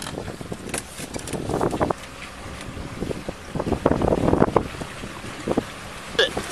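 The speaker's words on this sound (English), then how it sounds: "Shut the motor down." A boat motor running on open water, a rumbling drone with gusty wind buffeting the microphone, loud and close throughout.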